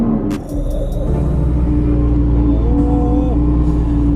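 A Lamborghini engine cranks and fires up, settling into a deep, loud, steady idle rumble close by.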